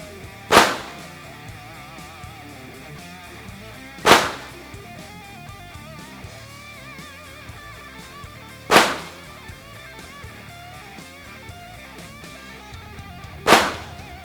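Four sharp, loud pistol shots from a Glock 44 chambered in .22LR at a 10-metre range, evenly spaced about four seconds apart, each a crisp crack with a short decay over quiet background.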